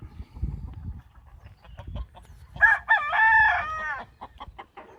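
A spangled Wheaton Modern Game rooster crows once, loud and close, after some low shuffling and clucking noises, with no talking.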